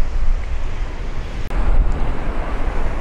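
Waves roll and surge steadily onto the beach at Marobá in Presidente Kennedy, Espírito Santo, at high tide; a continuous loud wash of surf with wind buffeting the microphone and no talking.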